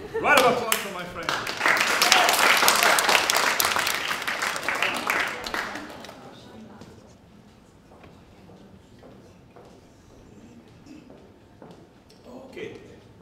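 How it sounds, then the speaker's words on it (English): An audience applauds a volunteer pianist, with loud clapping for about six seconds that fades into scattered claps and a few footsteps or knocks. Someone briefly speaks near the end. "Round of applause for my friend."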